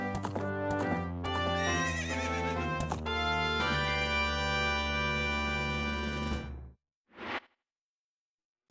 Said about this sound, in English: We now have ourselves a horse